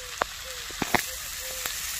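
Tomato sizzling in a hot wok (kadai), a faint steady hiss broken by a few soft pops and clinks, fairly quiet, with no one speaking.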